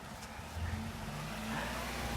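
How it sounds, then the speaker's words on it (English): A car drives past on a road through a village, its engine rising in a steady, fairly close hum that grows slightly louder and fuller toward the end, with no talking. "Oh, here comes the car."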